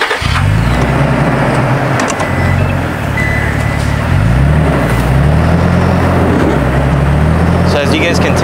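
Truck engine revving and labouring while stuck off-road, a loud steady drone with rising and falling pitch sweeps throughout, close and continuous, with a voice speaking over it.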